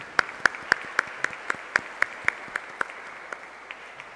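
A church congregation claps during a Sunday Mass, with a few sharp, evenly spaced claps ringing out in a reverberant hall over a softer, thinner wash of applause that dies away after about four seconds.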